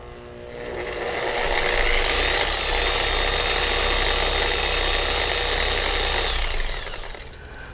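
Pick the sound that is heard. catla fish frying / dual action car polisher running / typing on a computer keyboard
dual action car polisher running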